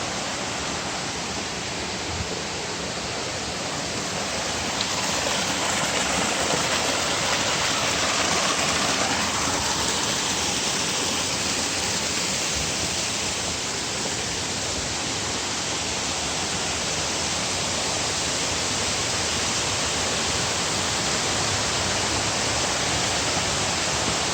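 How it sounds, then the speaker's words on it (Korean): The second fall of Cheonjeyeon Waterfall in Seogwipo, Jeju, a constant broadband roar of falling water, steady and unbroken from start to finish with no voices. "여기가 아마도 이 폭포인 것 같습니다. 물이 모여서 어, 이 폭포가 이제 형성이 됐고요."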